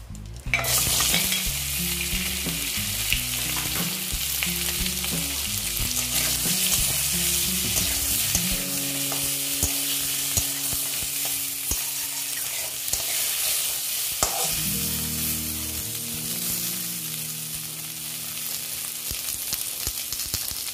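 Potatoes fry in hot oil left over from frying eggs for an egg and potato curry, giving a steady broadband sizzle that runs under background music throughout.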